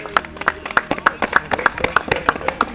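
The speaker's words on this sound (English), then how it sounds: "so a big applause for Francis, please." A small film crew claps for a cast member on a production set, a handful of distinct close hand claps in an uneven rhythm, with some voices mixed in.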